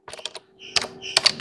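A command is typed on a computer keyboard: a short, close run of crisp key clicks in two quick bursts with a brief pause between.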